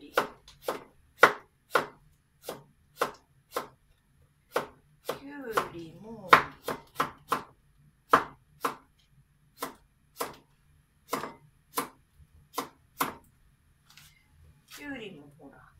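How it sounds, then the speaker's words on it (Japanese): Kitchen knife slicing cucumber into thin julienne strips on a cutting board, a steady series of sharp, distinct chops with brief pauses, close by, with someone talking between some cuts. "きゅうりもほらちょっと斜めに切ってから千切りにすると"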